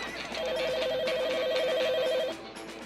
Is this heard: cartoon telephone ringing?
yes